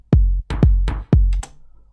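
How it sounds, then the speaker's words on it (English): Afro House drum pattern with a steady kick and a pitched tom sample dropping in pitch, four punchy hits with short decays, up close and loud with no voices. "Next thing, it's a tom"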